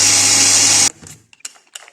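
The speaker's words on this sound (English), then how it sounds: "mostly what you do is you want to blend it" A kitchen blender runs loudly and steadily, whirring through a guar-thickened liquid mixture, then cuts off abruptly, leaving a few faint knocks and clatters.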